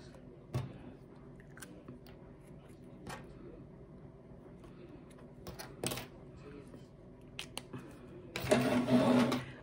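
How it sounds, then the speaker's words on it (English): A domestic sewing machine stitching duffle coat fabric, with short bursts of motor whirring and clicking separated by quiet pauses, ending in a louder, longer run of stitching. "And you're literally just sewing."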